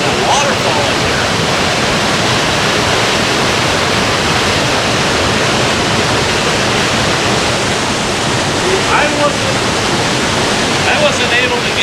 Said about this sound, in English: Beautiful little waterfall in here.